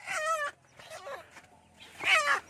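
A young bantam hen clucks in two or three short, bright bursts with pauses between, close by and without talking.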